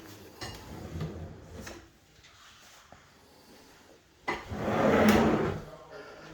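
A custom pull-out oil trolley drawer in a kitchen cabinet slides and knocks faintly a few times, then rolls out with a louder, brief rushing slide near the end.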